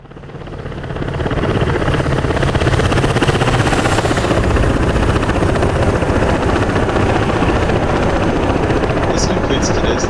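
KA-50 Black Shark helicopter in the DCS World flight simulator, a loud steady rotor and turbine drone that swells in over the first seconds and then holds, with an instructor's voice speaking over it.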